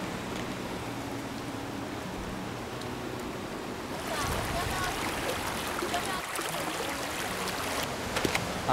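A wild mountain creek at Taigang in Jianshi, Hsinchu rushes with a broad, steady wash of water that swells louder midway, with faint voices early on.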